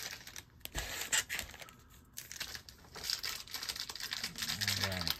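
Foil wrapper of a Panini Chronicles Racing 2022 trading card pack being ripped and crinkled open up close, a steady run of crackling and tearing that builds toward the end.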